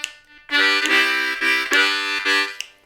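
A C harmonica plays a groovy blues rhythm, with chords pulsing in short in-and-out breaths in a steady chugging pattern. It is close and loud and plays alone.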